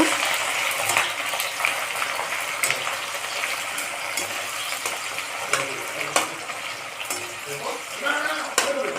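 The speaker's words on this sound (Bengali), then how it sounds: "পেঁয়াজটা ভালো করে ভেজে নেব।" Onions sizzle and crackle steadily in hot oil for a Bengali-style duck curry, with occasional sharp stirring clicks against the pan.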